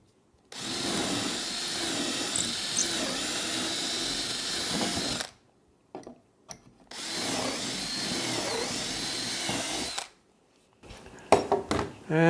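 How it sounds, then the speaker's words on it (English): A power drill whines through wood, drilling holes with a jig, in two sustained bursts of about five seconds each, separated by short pauses with small clicks and knocks. "And I just drill the holes."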